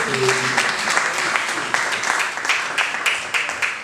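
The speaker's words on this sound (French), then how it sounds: "Est-ce qu'on peut aussi acclamer le Seigneur" A crowd at a Togolese gospel professional breakfast gathering claps and cheers, dense sustained applause with scattered sharp claps and voices rising through it, loud and close.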